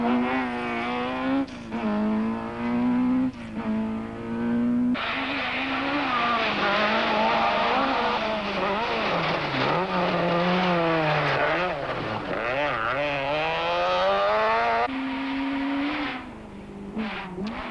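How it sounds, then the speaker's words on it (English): Rally cars, a Volkswagen Golf Synchro and a Nissan Sentra with weak brakes, race flat out along a 1992 rally stage, engines loud and close, revving and shifting with rising and falling pitch, tires squealing and skidding through corners. "Golf Synchro is having to fight off the Sentra of Hannes Grobler"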